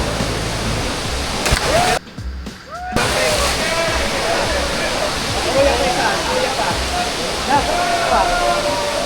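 Waterfall in Kawasan canyon during canyoneering, a loud steady roar of rushing water filling the scene, with people talking and calling out over it and a brief cut near the start.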